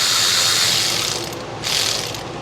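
Electric ratchet whirring steadily as it tightens bolts on a Ford 5.4 Triton 3-valve engine during a timing chain repair, loud and close, with a brief dip before the motor spins up again.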